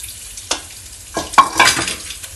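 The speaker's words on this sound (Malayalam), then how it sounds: "കൂടെ തന്നെ നമുക്ക് അതേപോലെ ഇഞ്ചി ആഡ് ചെയ്യാം കേട്ടോ." Ginger stir-fried in hot oil for a Kerala-style fish pickle, loud close sizzling with spoon scrapes and stirring bursts, no talking.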